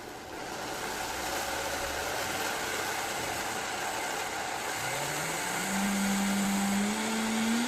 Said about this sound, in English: put 1 3/4 cups of oats into my blender, my Vitamix, and I am going to blend it up